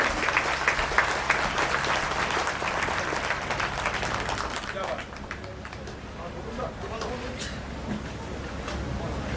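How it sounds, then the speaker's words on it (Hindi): Audience at a Guru Purnima gathering in Ujjain breaking into loud, sustained applause, dense clapping filling the space and easing slightly toward the end, with voices mixed underneath. "भाई आप लोग तालियां दीजिए"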